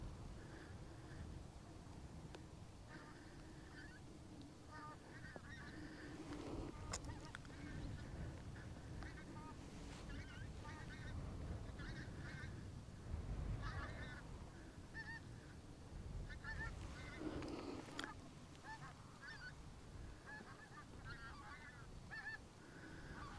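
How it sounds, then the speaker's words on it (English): Geese flying in over a Scottish loch honk repeatedly in a distant, faint chorus, calls overlapping in irregular bursts against soft outdoor background noise. "The geese have been coming in good numbers today."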